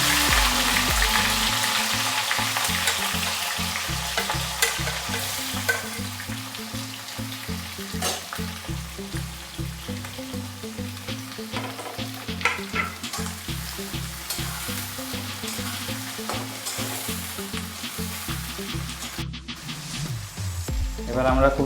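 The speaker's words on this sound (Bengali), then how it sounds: "আমরা এখন পেঁয়াজটা যতক্ষণ না আর কি গলে আসছে ততক্ষণ আমরা এটাকে ভাজবো।" Onions frying in oil after panch phoron spices for a Bengali-style mutton curry with potatoes, a steady close sizzle and crackle running throughout with occasional stirring clatter.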